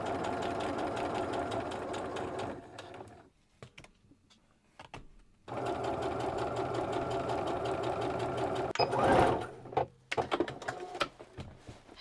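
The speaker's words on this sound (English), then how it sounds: "let me make that adjustment now to this inseam, and then I will top stitch the hem closed" Sewing machine top stitching the hem of shiny satin trousers, running in two steady close bursts separated by a short pause, then stopping with a few brief mechanical clicks.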